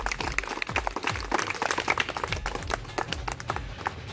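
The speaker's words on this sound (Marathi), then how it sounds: "सर्वांनी जोरदार टाळ्या वाजवून ते स्वागत करायचे" Audience at a graduation ceremony breaks into steady applause for a student, dense overlapping claps filling the whole stretch at close, even loudness.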